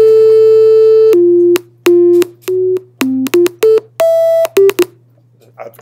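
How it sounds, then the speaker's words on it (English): A monophonic sine wave from a simple software player steps through a series of pure sustained notes at different pitches, some held, some short staccato, clean and loud over a low steady hum. "very simple monophonic sine wave player"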